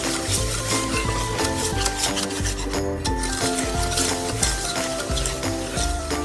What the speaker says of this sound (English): we have to mix the butter very well